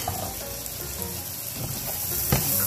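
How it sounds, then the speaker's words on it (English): Chopped red onions and shallot sizzle steadily in hot oil in a pan that just held shrimp, a dense even hiss with a brief stir near the end and no talking. "with the shrimp removed, we're putting down more oil. First goes the red onions, the shallot"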